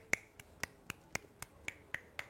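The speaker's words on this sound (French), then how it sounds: "Et je peux également applaudir d'une seule main." A person clapping with one hand makes a series of about nine sharp, crisp snaps at a steady, slightly uneven rhythm, close up and alone in a quiet room.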